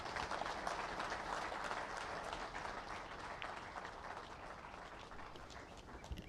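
Following a memorial lecture, an audience claps steadily throughout, a dense even patter of applause heard at a fairly low level from a distance.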